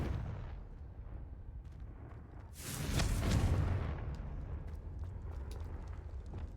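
A Confringo fire spell from Hogwarts Legacy bursts in a broad, roaring blast that swells for about a second before rumbling away over a low, steady game ambience.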